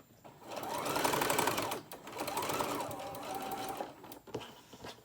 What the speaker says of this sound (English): I think it's about time for me to clean my sewing machine